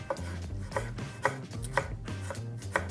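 Evenly spaced knife chops through tomatoes land on a board, about one every half second, close and clear with faint music underneath.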